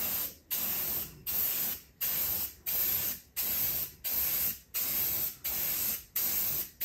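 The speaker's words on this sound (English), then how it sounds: "Give it a test spray before you apply it to your canvas" Repeated short hissing bursts from a spray paint can, about ten evenly spaced sprays with brief pauses between, close and steady.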